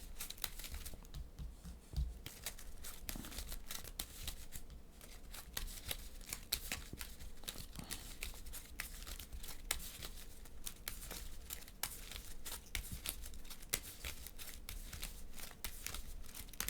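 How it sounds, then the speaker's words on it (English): Marvel Champions game cards are shuffled into a deck with soft, repeated riffling and crinkly flicks close to the mic, quiet and continuous throughout. "I'm going to shuffle these in."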